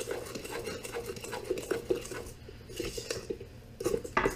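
Muffin batter for blueberry streusel muffins stirred by hand in a bowl, with close, irregular spoon scrapes and soft wet squishes against the bowl.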